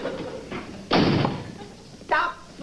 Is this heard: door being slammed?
yes